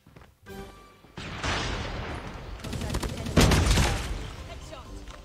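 Kilo 141 assault rifle fire in a video game bomb-defusal mission, loud sustained bursts of rapid automatic gunfire with a heavier volley near the end, close and dense.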